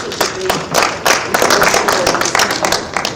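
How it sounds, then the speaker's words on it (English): An audience at a health conference gives a presenter a round of applause, many hands clapping in a lively, uneven burst with sharp claps standing out, loud and close throughout. "a round of applause for her"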